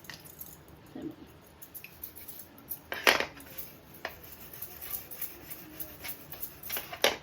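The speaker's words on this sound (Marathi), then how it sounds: "आता आपण त्याला थोडंसं पाण्यात ठेवूया आणि हा घासून घेऊया" A blackened gas stove burner being scrubbed by hand in a little water, producing close wet squishing and rubbing with sharp metallic clinks and knocks scattered throughout.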